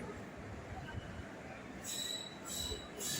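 Train standing at Coimbatore Junction platform during a locomotive change, a steady low rumble and hiss with bright metallic squeals rising in the last second and a half, moderately loud and close.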